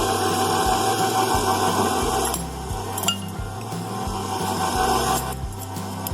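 An electric mixer whirs steadily through brownie batter, its motor droning at a constant pitch with occasional clinks and knocks of the beaters against the bowl.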